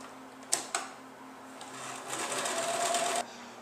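A sewing machine stitches upcycled sweater fabric, first with two sharp clicks, then a steady whirring run of needle strokes, close and moderately loud before stopping abruptly.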